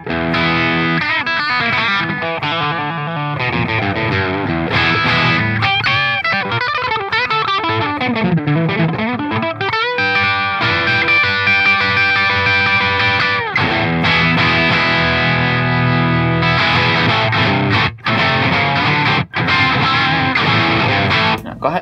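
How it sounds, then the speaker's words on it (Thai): An electric guitar is played through a warm overdrive effect pedal, giving a thick, gritty, sustained tone of chords and notes. It stays loud and continuous throughout, with no talking. "สำหรับผมจะชอบไอ้วอร์มโอเวอร์ไดรฟ์นะครับรู้สึกว่าเสียงโอเคมาก"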